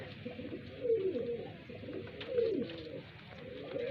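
Highflyer pigeons in Bareilly coo softly in repeated low, rolling phrases, a few seconds of gentle throaty calls at close range over faint background noise.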